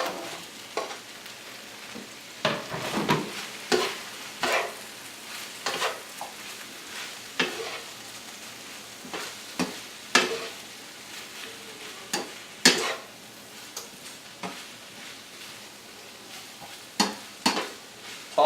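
Shrimp and broccoli stir-frying in a pan, with steady sizzling broken by repeated sharp tossing and stirring scrapes at irregular intervals, fairly close and with no voices.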